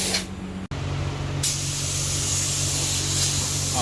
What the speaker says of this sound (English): spray the primer so we can tell what we still need to work on